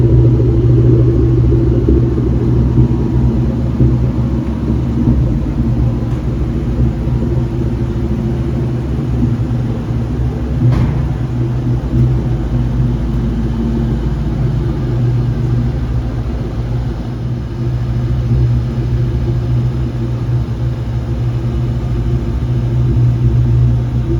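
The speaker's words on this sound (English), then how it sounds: "So we went for a night drive." A car drives at night, its engine and tyre roar forming a steady, loud low rumble heard from inside the cabin throughout, with no talking.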